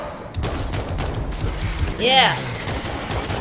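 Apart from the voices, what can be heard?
gunfire in World War Z video game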